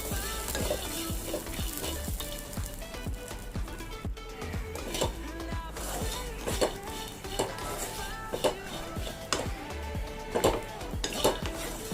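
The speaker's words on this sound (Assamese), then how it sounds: "তেল নিদিয়াকৈ এনেকৈ যেতিয়ালৈকে ৰ'ষ্ট হৈ নাযায় ভালদৰে এনেকৈ লৰাই থাকিব লাগিব" Ingredients dry-roasted in a pan without oil are stirred continuously, giving steady scraping and clinking of a utensil against the pan with small rhythmic knocks and a faint sizzle, close and constant throughout.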